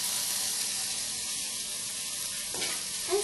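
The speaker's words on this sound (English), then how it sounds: "At this stage, we will be adding the chopped tomatoes" Chopped tomatoes go into onions sautéed golden brown, giving a steady, close, loud sizzle and hiss throughout, with a light clink of a utensil near the end.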